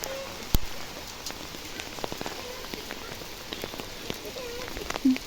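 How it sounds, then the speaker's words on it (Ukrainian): Hail falling in mid-October in the Kyiv region, a dense patter of small impacts with sharper clicks scattered throughout, steady and close, with no talking. "А, вже опять падає град, да."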